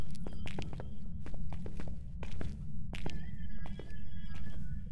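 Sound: footsteps

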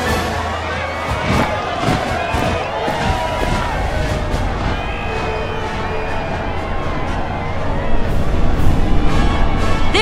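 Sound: crowd cheering in a video game

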